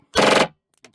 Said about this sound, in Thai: ตรง A กดไกลแช่เป็นการยิงฟัวโต้ครับ